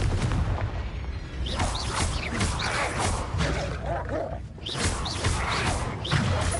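Confringo blasting spells going off in Hogwarts Legacy, with dense booming bursts and rumbling impacts that repeat through a continuous, loud layer of combat noise and game effects.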